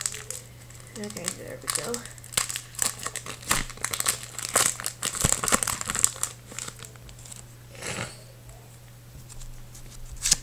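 A Pokémon Plasma Storm booster pack wrapper is torn and crinkled open up close, its crackly foil rustling in irregular bursts across the clip, with a brief spoken remark partway through.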